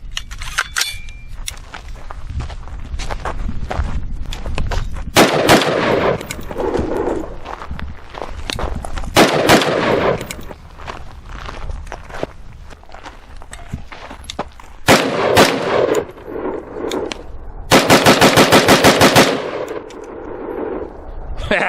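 An ATI Alpha Maxx hybrid 5.56 pistol with a metal upper fires at an outdoor range, with several loud, sharp reports, some single and one quick burst, amid clanks and background movement.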